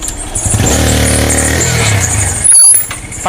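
Motorcycle engine running loud and close, a steady rumbling idle that holds for a couple of seconds before a brief cut and a sharp burst, in a rural Sylheti setting.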